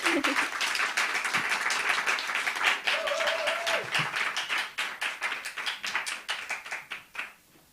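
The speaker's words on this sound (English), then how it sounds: "just another massive round of applause for our speakers today" An audience at a lifelong learning event claps for the speakers, a steady wash of hand claps that holds for several seconds, then thins and fades out toward the end, with a brief voice partway through.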